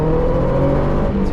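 A rare car's engine revs loud and close, its steady drone holding strong with sustained harmonic tones throughout the short stretch.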